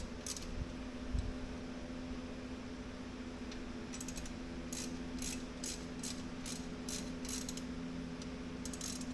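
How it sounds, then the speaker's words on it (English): A bolt being loosened and backed out with a ratchet, faint close clicking in quick repeated bursts over a steady low hum. "Now, suppose I gotta take this bolt out."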